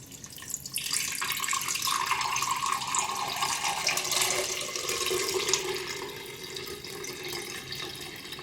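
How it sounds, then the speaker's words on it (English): Herbal nettle scalp tonic poured from a heavy pot into a pitcher, a steady splashing stream of liquid that runs for several seconds and then eases off slightly toward the end. "I pick up this really heavy pot and I just pour it in."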